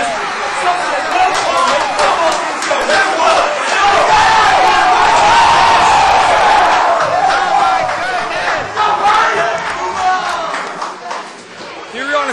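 Spectators roaring and yelling at a high school football state playoff game, a dense, loud crowd din with shouted cries rising and falling, swelling mid-way then easing slightly.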